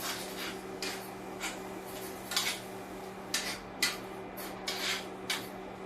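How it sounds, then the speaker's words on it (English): Meat sauce of ground beef seasoned with oregano being stirred in a pot, a run of soft scraping and clinking strokes from a spoon against the pot, fairly close and moderately quiet over a steady stove hum. "we're going to stir this sauce again"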